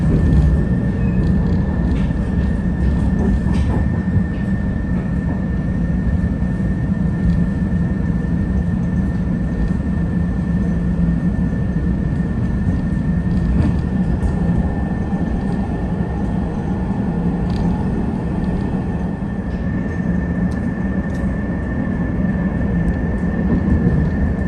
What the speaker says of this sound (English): On the train, I'm on my way. Next stop, Peoria Station.